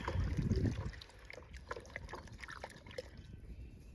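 Liquid natural fertilizer made with rabbit manure being stirred, a brief slosh at the start followed by faint drips and trickling, quiet and close.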